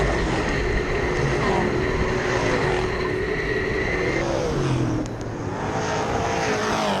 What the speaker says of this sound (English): Working the steering wheel as we ride on board with Grant Flynn